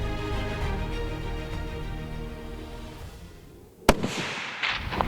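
A single sharp rifle shot cracks out during a mule deer hunt at about 320 yards, a sudden loud report after a steady outdoor rumble, followed by a brief rolling echo.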